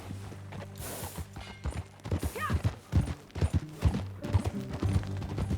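Horse hooves in the video game Red Dead Redemption 2 clop on hard ground in an irregular walking rhythm, close by, with a brief whinny and some creaking gear.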